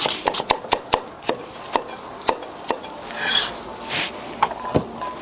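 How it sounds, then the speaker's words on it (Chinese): A knife on a board dices scallion, ginger and garlic, giving quick, sharp chops in an uneven rhythm that slows and thins out, with some scraping near the end, close and clear with no talk. "辅料准备的葱姜蒜，切成丁丁儿"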